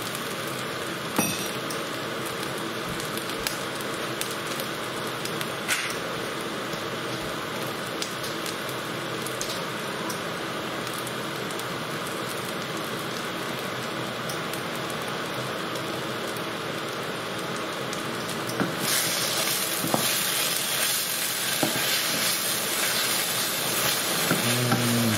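Chicken madras frying in a pan, a steady dense sizzle with stirring scrapes throughout, growing a little louder and brighter near the end; no voices.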